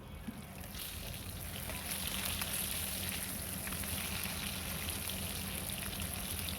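Fish seasoned with turmeric, salt and chili powder frying in a pan on a stove, giving a steady, dense sizzle with soft crackling pops that carries evenly throughout without any talk.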